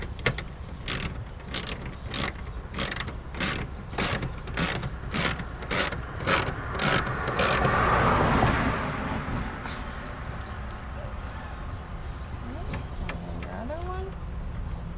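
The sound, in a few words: wrench turning a bolt on a plate frame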